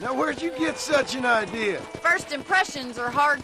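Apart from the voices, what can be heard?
None of the usual background noises is heard.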